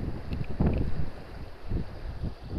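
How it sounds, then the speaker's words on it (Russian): Wind gusting outdoors during ice jig fishing, a broad rushing roar with microphone buffeting that swells and eases in uneven gusts, fairly loud and steady with no voices. "Что ветер дует, выдувает, вообще не поймешь, что где."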